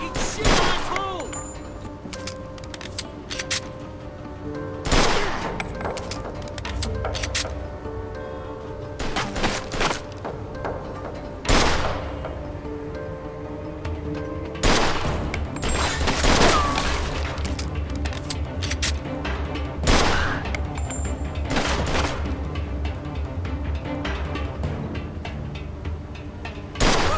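Rapid, loud gunfire from the video game Mafia II: Definitive Edition, with sharp shots cracking in irregular bursts and volleys over a steady rumbling background, and some voices mixed in.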